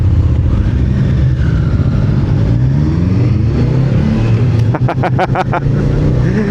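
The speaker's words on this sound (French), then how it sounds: "C'est quand même une belle moto la Triumph." A Triumph motorcycle engine drones loudly and steadily close by as it passes, with a rising rev and a quick series of sharp mechanical clicks near the end.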